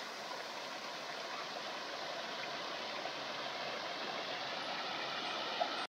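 A waterfall and stream rush at a natural outdoor spot, a steady broadband roar with no letup, loud and continuous throughout with no voices.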